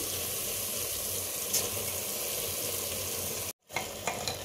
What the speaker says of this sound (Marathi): आपण जे तांदूळ भिजत ठेवले होते ते निथळून घेतले आणि ते घालते मी ह्यामध्ये